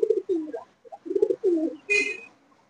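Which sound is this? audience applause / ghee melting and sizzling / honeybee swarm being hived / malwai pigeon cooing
malwai pigeon cooing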